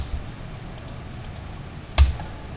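Light keystrokes on a computer keyboard entering a command in Rhino 3D software, a few faint scattered taps and one sharper clack near the end over quiet room hiss.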